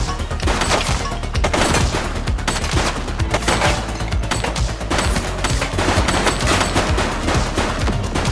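Dense gunfire from The Precinct video game crackles in a loud, nearly continuous fusillade of rapid shots for the whole stretch, with no pauses.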